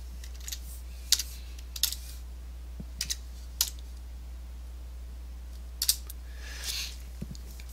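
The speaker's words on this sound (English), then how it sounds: "hit the Super key or Windows key, and then type Tablet" Scattered keystrokes on a computer keyboard in a quiet room, a few isolated clicks and short bursts spaced out over several seconds, fairly faint and close.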